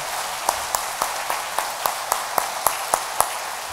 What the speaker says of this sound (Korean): 우리 박수해 드리는 것이 좋을 것 같습니다.